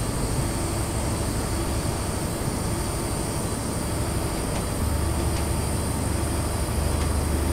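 A high-speed train in Train Simulator 2017 runs along the Scottish East Coast Main Line between Edinburgh and Dundee, giving a steady, continuous rumble with a low drone and faint clicks, close and unbroken, with no talk over it.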